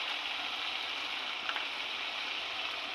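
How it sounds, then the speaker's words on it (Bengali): Onion, tomato, garlic, ginger and green chilli pastes fry and sizzle in a pan for a Bengali prawn malai curry, giving a steady, close, even crackle with no talking. "একটু নাড়িয়ে কষিয়ে নিচ্ছি"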